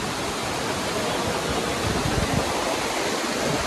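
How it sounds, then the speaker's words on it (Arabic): Cold spring water rushes out from inside a mountain near Fethiye, Turkey, making a steady, dense roar of gushing water that stays loud and close throughout. "شوفوا هذا المي اللي دا يطلع من جبل"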